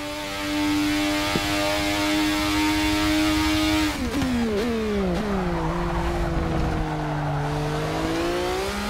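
McLaren MP4/4 race car in Forza Motorsport 6 holds a steady high engine note, then shifts and drops through several quick gear changes as revs fall and climb again, loud and close with no talk.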